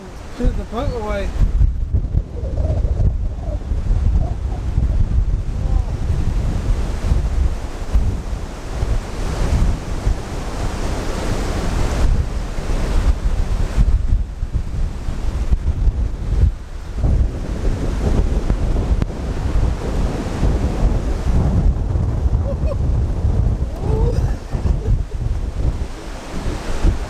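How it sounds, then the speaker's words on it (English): Strong wind buffets a narrowboat cruising the Shropshire Union canal, making a loud, continuous roaring rumble with surging gusts that batter the microphone for the whole stretch. "This is the windiness."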